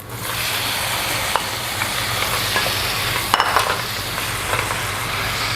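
Tomatoes go into sizzling butter beef in a pan, producing a continuous loud frying hiss with a few clinks from stirring and no voices.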